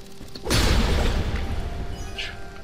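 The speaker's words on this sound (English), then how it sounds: "Explosions." A sudden heavy boom bursts in after a quiet moment, followed by a rumbling, crackling tail that slowly fades, an explosion in the game Dust: An Elysian Tail.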